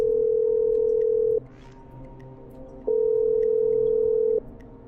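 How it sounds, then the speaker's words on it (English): Telephone line tones in the video game Killer Frequency: a steady, clean, mid-pitched tone holds, cuts out for a moment of faint hum, then sounds again and stops. "Okay, I'm dialing."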